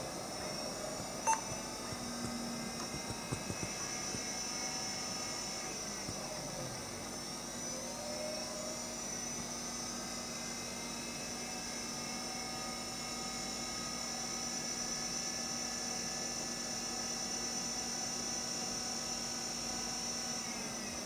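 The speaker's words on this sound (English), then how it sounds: "So I turned on the PC again and here for the sound of the hard drive." A faint, steady mechanical whine from a 486 PC's hard drive spinning up and down and failing to initialize, with a pitch sweep early on, a few soft clicks, and a constant hum throughout.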